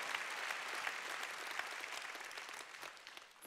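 Congregation clapping together during a Sunday church service, a dense continuous wash of applause that holds steady and eases slightly toward the end, with no voice over it.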